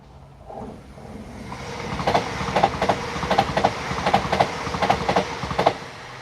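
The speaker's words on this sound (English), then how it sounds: "there goes another Avanti Evero 805" An Avanti Evero class 805 train rolls past close by, its rumble building quickly into a rapid clickety-clack of wheels over rail joints, loud and steady to the end.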